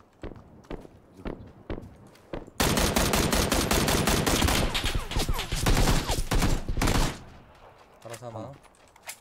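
Video game gunfire: a few scattered single shots, then a dense burst of rapid automatic fire that runs for several seconds before stopping abruptly, with brief talk and game sounds around it.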